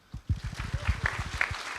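Conference audience at a JavaScript lightning-talk event breaking into applause, a brief burst of many claps starting sharply and continuing steadily at moderate volume.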